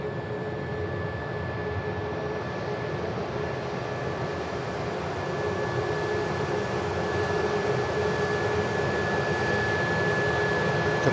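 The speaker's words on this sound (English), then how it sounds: "next aircraft touchdown is one of their aircraft coming in from Jersey" An EasyJet Airbus A320 arriving from Jersey lands at Manchester Airport, a broad, steady jet roar from a distance that swells gradually through the touchdown with no talk over it.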